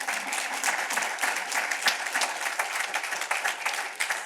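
Audience applause after a speech by a housing authority chief executive, dense continuous clapping from a large crowd, fairly loud and sustained for several seconds.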